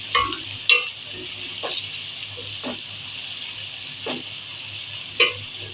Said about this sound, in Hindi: 2 मिनट तक मैं इसमें प्याज फ्राई करूँगी।